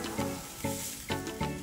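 Sea scallops sear in a hot pan with a steady close sizzle, swelling in four short surges of louder crackle as they are moved or turned.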